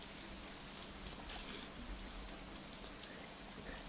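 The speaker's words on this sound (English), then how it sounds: "Instead, the rain seems to increase." Steady soft rain falling in the visual novel Katawa Shoujo, a continuous faint patter with no voices over it.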